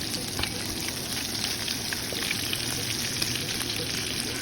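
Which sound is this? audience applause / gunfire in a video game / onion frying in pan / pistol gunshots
onion frying in pan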